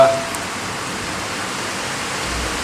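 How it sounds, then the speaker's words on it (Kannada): Heavy monsoon-season rain pours down in a dense, constant hiss, loud and unbroken throughout, with gusty wind blended into the roar. "ಈಗ ವಾಪಸ್ ಜೋರು ಮಳೆ ಬರ್ತದೆ, ಗಾಳಿ ಮಳೆ ಬರ್ತಂತೆ"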